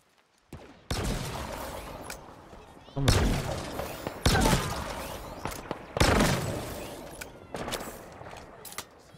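Gunfire in the shooter game Halo Infinite: several loud bursts of rapid shots and booming impacts, each decaying into echoing tails, with short quiet gaps between volleys.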